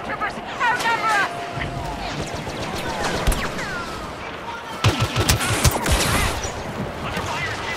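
Blaster fire and battle noise in Star Wars Battlefront on the forest moon of Endor during a Walker Assault, with bursts of rapid shots over a busy background, and voices shouting commands in between.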